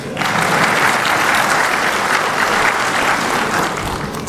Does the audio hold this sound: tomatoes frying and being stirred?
no